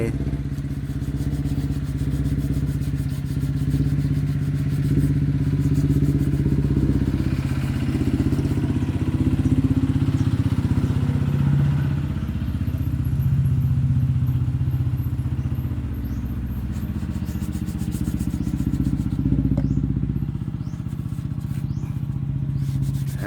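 A motorcycle fitted with a modified exhaust can runs steadily, a deep, continuous low rumble close by with occasional clatter and no speech.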